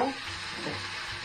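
Food fries in a small pan with a steady close sizzle over a short stretch, opening with a brief clatter.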